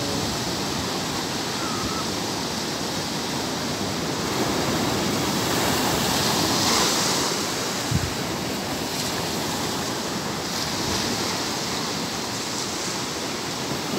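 Surf pounds and washes along a beach in Zambales, a dense continuous roar of breaking waves with wind noise, swelling slightly midway, with one brief thump and no speech.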